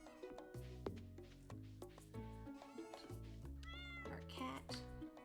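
A pet cat on a farm in the video game Stardew Valley meows repeatedly, several clear, close meows in succession over light in-game music, with a person talking.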